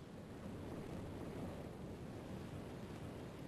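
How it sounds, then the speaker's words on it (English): Steady wash of ocean waves and surf in the video game 999: Nine Hours, Nine Persons, Nine Doors, a continuous low rushing roar with a windy, muffled quality and no distinct breaks. "Waves crashing in the background."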